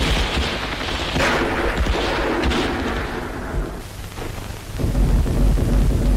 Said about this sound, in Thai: บรรดาปืนกลปืนคกปืนใหญ่ต่างก็แข่งกันยิงถล่มพวกฝรั่ง